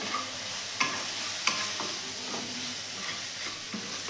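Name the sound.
stirring and frying ground spices with a little water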